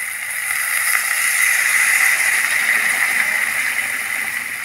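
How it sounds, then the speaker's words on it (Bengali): Water poured into a frying pan of eggplant, potato and tomato for a thin fish curry, a steady rushing, bubbling hiss that holds evenly throughout, no voices. "এখন দিয়ে দিচ্ছি জল।"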